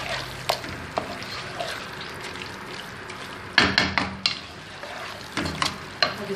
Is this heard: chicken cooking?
yes